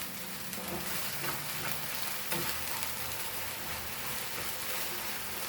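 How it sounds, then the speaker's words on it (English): Goan crab masala frying in a pan, a soft continuous sizzle with light crackles and an occasional stir, steady and fairly quiet with no talking. "Fry this for around 5 minutes"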